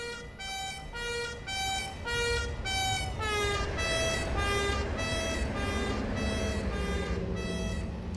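A Dutch NS Martinair Koploper train horn in Train Simulator sounds a loud, rhythmic series of repeated two-tone blasts, siren-like and bright, each note sliding in pitch over a low rumbling background.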